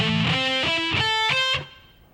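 A distorted electric guitar plays a fast lick of quick picked notes with a hammer-on feel, bright and saturated, then the last note fades out; no talk.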